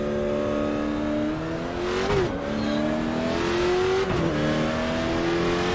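A late model stock car in the iRacing video game lapping a track, its engine holding a loud, steady drone that dips and climbs twice as it brakes and accelerates through corners, close and continuous with no talking.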